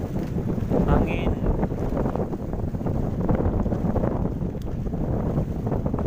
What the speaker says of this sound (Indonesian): dari semalam dihajar angin